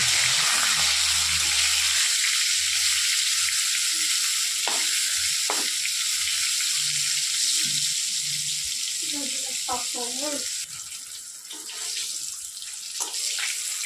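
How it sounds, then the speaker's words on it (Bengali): Brinjal slices fry in oil for mustard brinjal, a loud, close, constant sizzle with bubbly spatter that eases a little toward the end, and a voice is briefly heard underneath. "সেই বেগুনগুলো কিন্তু দেখো এর মধ্যে দিয়ে আমি ভেজে নিচ্ছি।"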